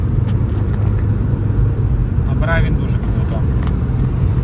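A Renault Megane 2 1.5 diesel (78 kW, six-speed manual) accelerating uphill on a highway, heard as a loud, steady low engine drone throughout, with a voice briefly rising above it.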